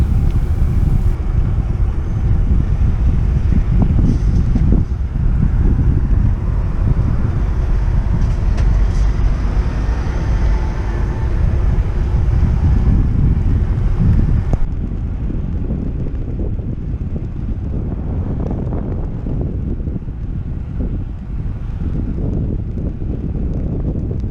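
Wind rushing over a microphone while cycling along a busy road on a hot day, a loud, steady broadband roar that drops to a lower, gustier rumble partway through.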